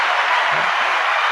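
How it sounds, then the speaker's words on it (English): Steady, dense applause with a crowd-like wash of claps holds evenly at moderate loudness, with faint voice traces underneath. "give everybody a round of applause"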